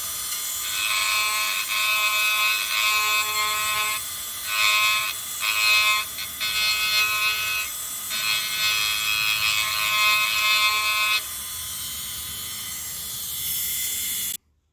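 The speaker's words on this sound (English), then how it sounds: "You have to keep the grinder moving because it gets hot and it burns" A rotary grinder with a burr carves a wooden wand, making a steady, loud, high whine that dips briefly several times as the tool lifts and then cuts off near the end.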